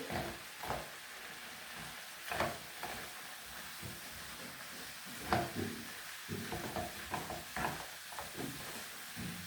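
Quiet stirring in a pan of food with chopped coriander and parsley, a soft steady sizzle broken by scattered scraping strokes, with no talking.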